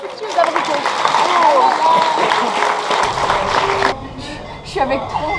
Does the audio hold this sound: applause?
yes